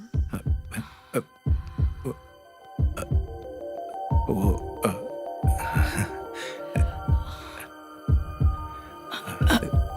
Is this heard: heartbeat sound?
yes